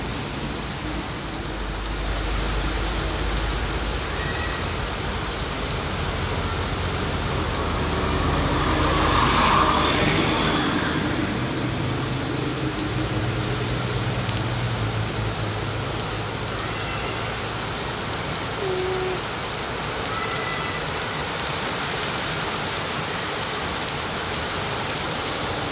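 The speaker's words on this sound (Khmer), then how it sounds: "ភ្លៀងរហូត" Heavy, steady rain pours down outdoors under a dark sky, a dense continuous hiss of drops striking surfaces, swelling briefly midway with faint low rumbles in the background and no voices.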